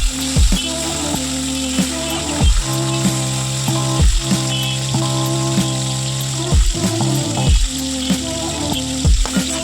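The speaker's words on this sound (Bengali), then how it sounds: "এইভাবেই মাংসের সমস্ত পিসগুলো হালকা লাল করে ভেজে তুলে নিতে হবে" Chicken pieces frying in a pan for lemon chicken, a steady loud sizzle with repeated clicking and ratcheting scrapes from stirring, close up and with no talking.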